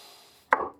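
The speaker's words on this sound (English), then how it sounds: "I decided to just nibble away the waste on the table saw" A table saw blade bites through waste wood in maple workbench notches, one sharp loud burst of cutting lasting a fraction of a second, followed by the start of another pass.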